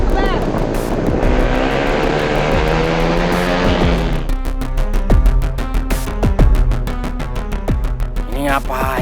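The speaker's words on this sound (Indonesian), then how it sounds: "Saya ngapain sih geber-geber? Ampun, digas-gas." A car engine is revved hard in loud, repeated bursts, the pitch climbing and dropping as the throttle is blipped, with a voice speaking briefly over the noise.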